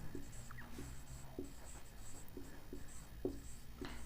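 Chalk or marker scratches across a board during a class 10 math lesson, short soft strokes in an irregular rhythm, faint and close against a low steady background hum, with no talking.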